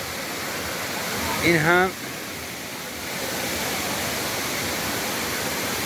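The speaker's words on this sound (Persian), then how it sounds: "عرض آبشار ملاحظه بفرمایید. هوای خنک، آبشار خزه‌ای تقدیم به دوستان." A wide mossy waterfall roughly 70 meters across roars as a steady, even rush of falling water, with someone speaking briefly over it in cool open air.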